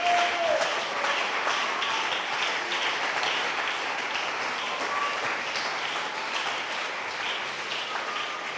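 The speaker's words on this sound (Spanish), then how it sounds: "Dele un aplauso a Jesús." A church congregation applauds, a broad wash of many hands clapping that starts strong and slowly eases over several seconds, heard at a moderate distance with no talk on top.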